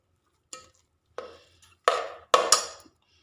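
Coconut laddu mixture stirred and fried over a low flame, heard as a handful of separate scraping, rasping spoon strokes against the pan, growing louder and closer together toward the end, with no speech.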